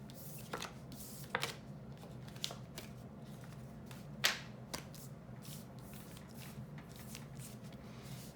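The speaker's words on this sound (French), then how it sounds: "Du coup, je range mes cartes." Tarot cards are gathered and put away with soft shuffling, sliding and light tapping sounds, scattered irregularly over a low steady background hum.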